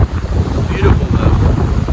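Strong wind buffets the microphone on a Lake Erie beach at Headlands Beach State Park, Ohio, a steady loud roar with low rumbling gusts and possible waves beneath, no voices.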